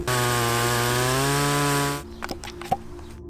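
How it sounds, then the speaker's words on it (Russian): A loud chainsaw runs close by, its pitch sagging as it cuts through large logs, then shuts off, followed by a few scattered wooden knocks. "И пилим сначала большие бревна."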